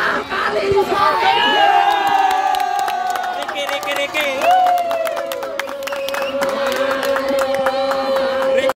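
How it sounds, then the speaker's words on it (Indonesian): Spectators at an amateur football tournament match in Indonesia roar after a goal: loud, sustained cheering and shouting from a close crowd, with scattered claps, holding steady throughout. "sorak-sorai penonton kita saksikan kali ini menyambut sebuah gol yang dilakukan oleh pemain dari MBRT"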